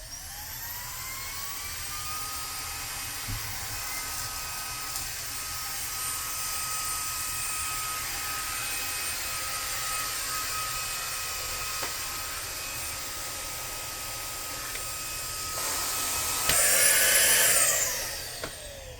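A household vacuum cleaner runs continuously as a steady, close whooshing drone that surges louder near the end, with no voices.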